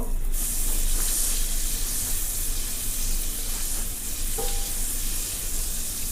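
Steady soft sizzling and hissing of butter in a hot pan, continuous and fairly quiet, with a faint scrape partway through.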